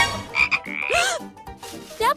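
A frog croaks in a run of rough, close, loud calls with brief pauses between them, and no voices.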